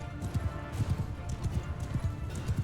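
Horses galloping in the video game Mount & Blade II Bannerlord, a dense rhythmic clatter of hooves in repeated bursts, moderately loud amid faint battle ambience.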